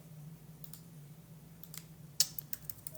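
Fingers tap on a computer keyboard, a faint scatter of light clicks that ends in a short burst of sharper keystrokes over a low room hum during a livestream.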